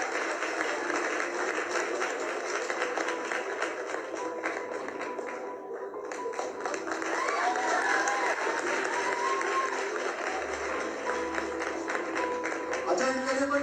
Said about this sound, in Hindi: ताली तो बजा दो, अच्छे वाली।